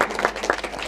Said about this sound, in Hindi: जोरदार तालियां बजाएं, अभिनंदन करें